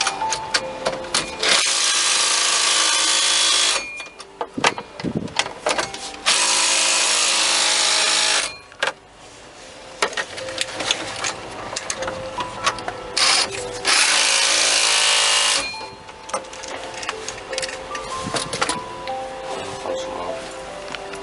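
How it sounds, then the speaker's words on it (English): A power drill drives screws during a Sterling truck dashboard installation, whirring in several long bursts separated by quieter handling noises and clatter, with occasional talk nearby. "you will use the drill."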